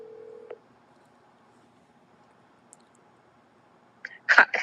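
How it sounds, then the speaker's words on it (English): A telephone is dialed for a call, with a short tone at the start, then near silence and a faint click, ending in a quick cluster of loud, close dialing beeps. "I'm gonna get Melissa on the phone here"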